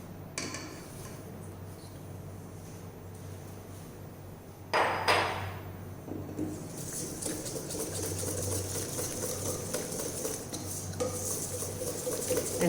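Chocolate loaf cake batter being whisked in a pot, a rapid scraping, rattling whisk against metal that picks up after a clunk midway and keeps going steadily and close, with no talking.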